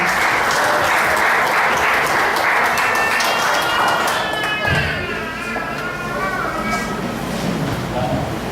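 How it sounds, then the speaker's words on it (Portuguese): A Pentecostal church congregation applauds: dense clapping fills the first half and then fades, while a voice speaks or sings over it and continues as the applause dies down. "Vamos recebê-los com palmas para o Senhor Jesus."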